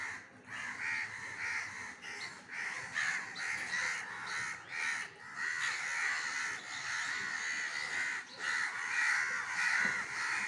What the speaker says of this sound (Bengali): কাকগুলো খুব চিল্লামিল্লি করছে ওদের দেখে